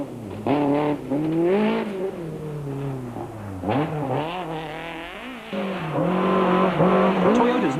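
A Nissan Sentra rally car races through a stage at the 1993 Volkswagen International Rally, its engine loud and close, revving up and down through gear changes with short pauses between pulls.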